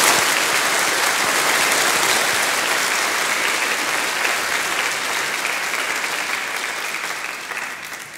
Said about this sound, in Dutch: een gigantisch applaus nog geven voor onze dank